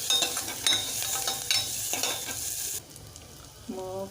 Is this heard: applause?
no